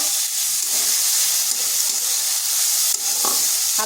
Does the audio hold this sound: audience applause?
no